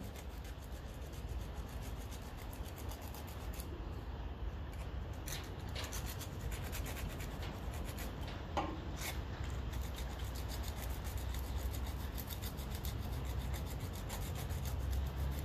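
A coated brass condenser bracket on a 1957 Ferguson 35 TVO tractor being rubbed clean by hand, producing a soft, continuous close-up scrubbing and rasping with faint scratchy strokes and no speech.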